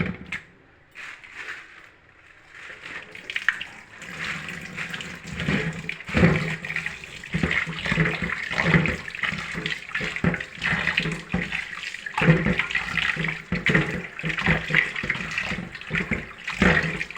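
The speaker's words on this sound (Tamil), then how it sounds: "இப்போ தண்ணி வச்சு இது வாஷ் பண்ணிடலாம்" Tap water runs steadily over raw mutton being washed in a home kitchen while preparing mutton curry, a continuous splashing rush with irregular louder surges, close by and with no talking.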